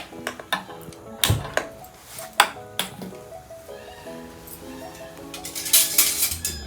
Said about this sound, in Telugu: దీన్ని కలబెడతా ఉండాలి.